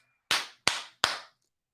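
Three sharp, separate hand claps, evenly spaced about a third of a second apart, each a crisp close slap with a short ringing tail, with quiet between them.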